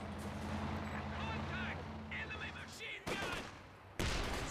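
Machine gun fire rattles through a Company of Heroes 2 battle, steady bursts under a low rumble with heavier blasts near the end, while a voice talks over the action.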